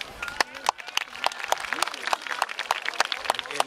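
Audience claps along to a YOSAKOI Soran festival performance in 2024, with sharp, rhythmic handclaps repeating steadily over a busy crowd and music background.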